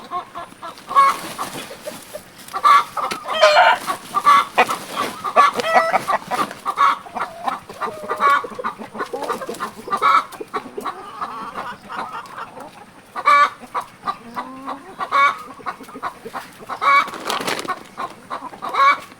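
A flock of hens and roosters cluck repeatedly close by, with short, regular calls and busy fowl chatter filling the whole stretch.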